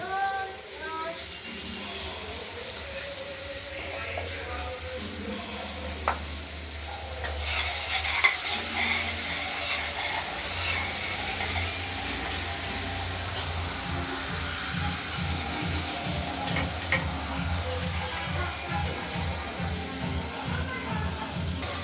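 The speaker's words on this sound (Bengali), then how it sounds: "আলুটা কিছু ভাজা হয়ে গেছে" Potato pieces coated with turmeric fry in oil in a pan, giving a steady close sizzle with repeated scraping and stirring strokes throughout.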